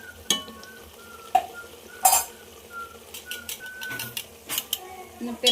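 A spoon scrapes and clanks against a pot while curd is stirred into masala-coated rice for Rayalaseema-style kushka, with intermittent sharp metal knocks and soft stirring between them.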